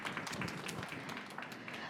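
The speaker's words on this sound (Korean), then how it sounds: "좋은 발제해주신 백이숙 팀장님께 다시 한번 큰 박수 부탁드리도록 하겠습니다." Forum audience at a carbon-neutrality transition event applauds a presenter, steady, fairly faint clapping from many hands filling the room without pause.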